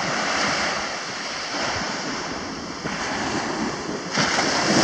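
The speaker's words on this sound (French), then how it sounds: "Des vagues aujourd'hui, super sympathiques. Le vent est super sympa." Steady roar of ocean surf with gusting wind buffeting the microphone, continuous and fairly loud throughout, swelling slightly near the end.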